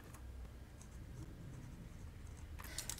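Pen writing on a sketchbook page, a faint, close scratching and scribbling that runs steadily with small strokes and a brief brisker burst near the end.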